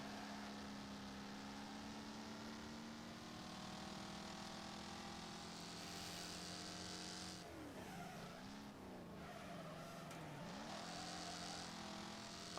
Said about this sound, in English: I love the sound of a good old American V8.